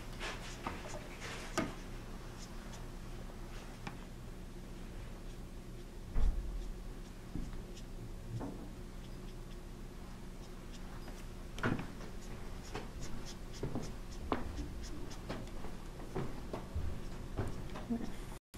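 A colored pencil makes short, quick flicking strokes on paper while a horse head is being drawn. The scratches are light and come at irregular intervals, with a few louder taps against a faint steady background hum.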